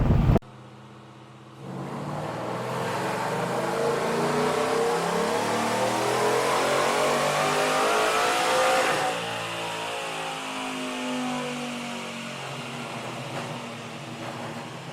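A Ford F150 Cobra Jet pickup on dyno rollers starts up and revs through a long, loud pull, the engine note rising steadily before dropping back to a lower drone.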